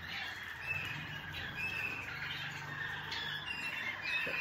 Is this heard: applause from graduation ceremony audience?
no